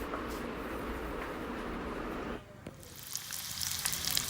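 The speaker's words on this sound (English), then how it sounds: "Look at the thape sizzling in the oil." Steady crackling sizzle of dumplings shallow frying in oil on a gas stove, loud and close, easing off midway before bright spitting sizzles return.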